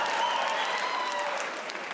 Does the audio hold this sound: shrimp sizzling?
no